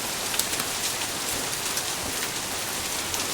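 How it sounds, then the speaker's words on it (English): Small hail pattering steadily on a car during a Florida hailstorm, a dense, even patter of many tiny impacts with faint sharper ticks, heard up close with no talking. "It's hitting my car."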